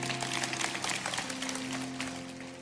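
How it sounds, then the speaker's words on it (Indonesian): A church congregation claps in praise to God during a sermon, soft and somewhat scattered, with sustained organ or keyboard tones ringing underneath. "kasih tepuk tangan untuk Tuhan"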